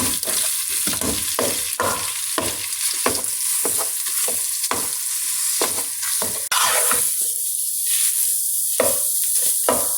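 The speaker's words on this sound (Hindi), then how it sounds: "थोड़ी देर तक पनीर को भूनना है," Paneer frying in butter in a pan as it is stirred, with rhythmic scraping strokes of a spoon over a steady, close sizzle. No talking.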